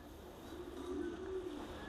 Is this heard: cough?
no